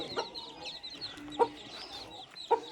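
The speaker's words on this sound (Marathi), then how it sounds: "ही कोंबडीने पिल्लं काढली आहेत छोटी एकदम छोटी आहेत" A hen gives three short, spaced clucks close by, over faint high chirping of chicks in the background.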